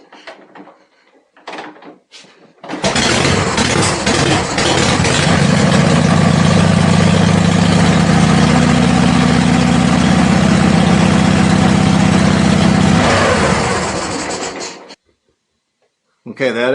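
A Shovelhead motorcycle engine is kick-started indoors and quickly catches, settling into a loud, steady, rumbling idle for about twelve seconds before it is shut off and falls silent.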